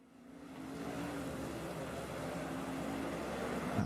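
GT3 race car in a sim racing game at Misano, its engine drone holding a steady low tone with a faint rising harmonic, rumbling continuously and growing slightly louder, no voices.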